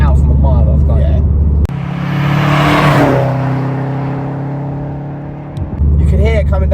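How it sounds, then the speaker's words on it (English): A Subaru WRX STI passes with a low, throbbing boxer engine burble that swells and fades, with talking before and after it. "it's got that distinctive sound that Subarus have, where it's that distant burble"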